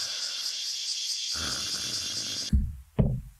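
Nobita snores in the video game Doraemon: Nobita's Farm Story, with a long, noisy, raspy breath over a steady high hum, then two short, sharp snorts close together at the end.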